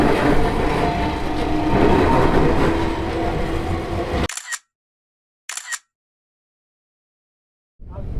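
A train rumbles past by the ocean at close range, loud and steady for about four seconds, then cuts off abruptly, followed by brief faint snippets and silence.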